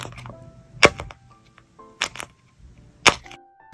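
Bubbles on a homemade Sanrio character pop-it toy are pressed, giving three sharp, close pops spaced about a second apart, with soft handling noise between them and no talking.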